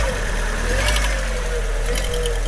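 A Fiat 500 engine runs steadily at idle with a continuous whine from a noisy belt, a constant close mechanical drone throughout while the exhaust is being changed.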